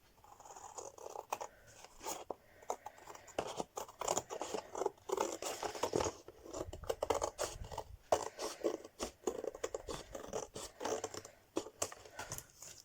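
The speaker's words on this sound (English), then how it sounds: "So all I'm doing is to cut the excess off." Scissors trimming excess fabric from a cardstock journal cover, heard as a close, quiet run of rapid snipping and crisp crunchy cuts with a steady, busy rhythm.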